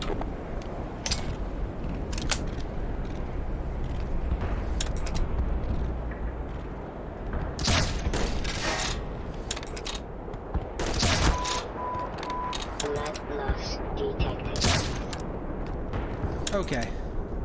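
Sniper rifle shots in the shooter game Black Mesa, several sharp cracks spread across a steady rumbling backdrop, with a person talking over the action.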